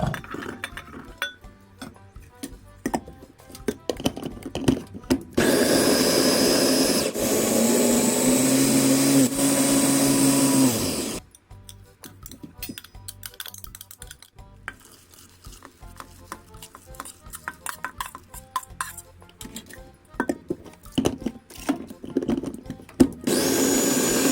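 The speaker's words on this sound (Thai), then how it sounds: "นี้เพื่อย่นระยะเวลาในการโขลกน้องจะเอาทั้งหมดมาปั่นก่อนค่ะ" An electric blender grinds Thai sour curry paste ingredients in one loud, steady whirring burst partway through, surrounded by clinks, taps and clatter of kitchen utensils and dishes before and after.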